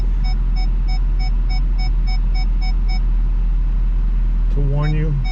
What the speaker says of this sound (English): when we shift into reverse and we back near an object, it beeps at you as you get close to objects